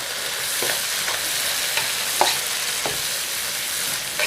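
Green chilies and medium tomatoes being stirred into hot oil in a pan while cooking Nellore fish curry, a continuous close sizzle broken by several scraping spoon strokes.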